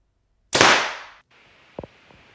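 A compound bow is shot at a target: a single sharp, loud release snaps and then fades over about half a second. Faint knocks follow shortly after in a quiet setting.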